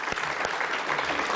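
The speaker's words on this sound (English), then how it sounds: "I think we should give those three inspiring young health professionals a huge round of" Audience at a Closing the Gap 2016 event applauding three young health professionals, a dense, steady wash of clapping from many hands that fills the whole moment without a break.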